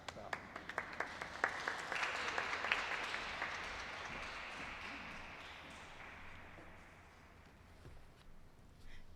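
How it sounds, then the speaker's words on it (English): Audience applause breaks out in a rotunda at a governor's media briefing, starting with a few distinct claps that swell into a moderate, fairly distant round before fading away. "And I'm going to clap."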